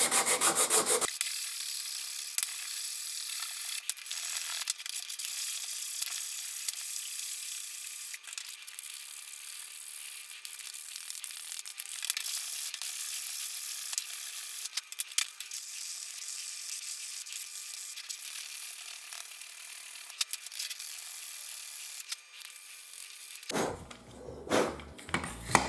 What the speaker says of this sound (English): I'm going to take my 220 grit sandpaper, clean up the glue that was left,